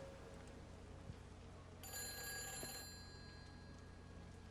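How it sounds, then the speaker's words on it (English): A telephone bell rings once in a single bright, metallic burst of about a second inside a hotel in the game Everybody's Gone to the Rapture, set against a quiet, low ambient hum. "I can hear the phone ringing."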